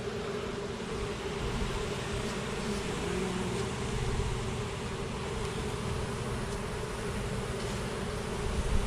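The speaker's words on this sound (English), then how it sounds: "just lightly brush the rest of those bees off of it" Honey bees buzz in a steady, droning hum at close range while being brushed off a honey frame pulled from a hive, a constant layered whine with no voices.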